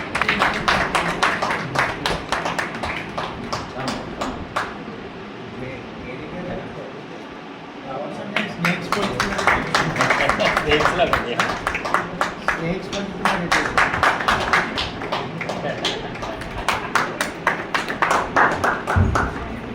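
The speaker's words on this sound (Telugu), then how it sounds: "చప్పట్లు పడతాం" Audience applause at a harvest festival in Chittivalasa, a steady patter of many hands clapping that rises and holds, mixed with crowd voices and occasional thumps.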